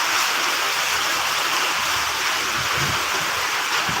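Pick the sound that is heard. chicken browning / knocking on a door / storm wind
storm wind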